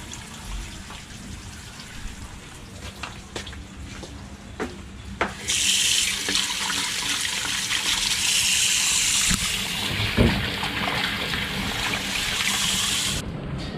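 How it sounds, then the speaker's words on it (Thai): Hands are washed under a running water tap: after a few faint knocks and clicks, water starts gushing and pours steadily and fairly loudly for several seconds, then cuts off abruptly. "ก็ล้างมือกันก่อนนะครับ ที่ล้างมือนี้ครับ"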